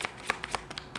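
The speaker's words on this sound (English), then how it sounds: "I'll shuffle three more times, please." Tarot cards being shuffled by hand in a quick run of crisp riffling bursts, close and fairly soft, with no voices.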